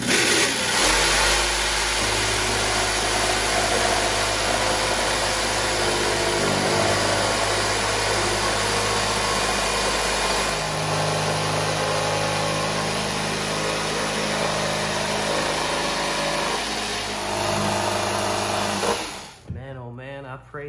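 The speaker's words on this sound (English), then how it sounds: "Lord knows I haven't used a jigsaw in a while. This thing probably could use some oil too." A 1980s Craftsman jigsaw that could use some oil runs almost continuously for about 19 seconds, a loud, steady motor buzz with a slight rise midway, then cuts off abruptly near the end.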